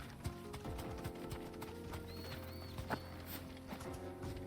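Chocobo mount footsteps in Final Fantasy XVI sound as a quick, steady clip-clop of hooves, joined by a short bird-like whinny call in the middle over a low game soundscape.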